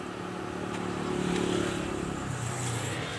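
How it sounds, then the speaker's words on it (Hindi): A Honda Civic engine, just repaired for a grounding fault, starts and settles into a low, steady idle hum, close by, with a slight shift in tone near the end. "तो गाड़ी को मैं अभी करता हूँ स्टार्ट"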